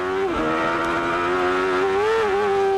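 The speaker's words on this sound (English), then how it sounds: "Oh, and you hear the wheel spin? Car got light." A 1993 IndyCar at the Pioneer Electronics 200 races over a hill crest, its loud, high engine note holding steady, dipping briefly and then rising again as the wheels spin while the car goes light.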